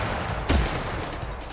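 A single sharp shotgun blast goes off in Totally Accurate Battlegrounds, a loud, brief crack over a dense background of game ambience, with no talking.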